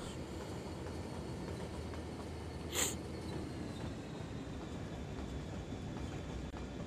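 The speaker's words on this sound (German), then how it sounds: "Das ist so ein schöner Zug, den habe ich mal hinzugefügt." A train rumbles along the tracks in the city-building game Cities: Skylines, a steady low rolling drone with a brief bright whistle-like burst partway through, no speech over it.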